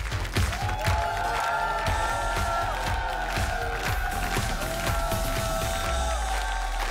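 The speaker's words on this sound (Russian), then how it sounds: "Эти аплодисменты вам" Studio audience applause on the Russian TV game show Двое на Миллион: dense, sustained clapping and cheering with a musical sting beneath it, steady and loud throughout with no speech.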